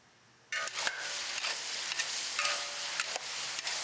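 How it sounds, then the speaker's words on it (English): A steady hiss of frying fills the air, starting suddenly, with periodic scraping strokes of a spatula tossing vegetarian ingredients for 30 people in the pan. "Frying ingredients for 30 people with both hands"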